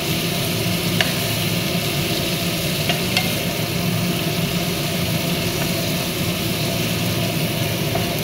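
Puting adobo is flipped and stirred while it fries in a pan: a constant close sizzle with occasional scrapes and clinks of the utensil against the pan, no voices.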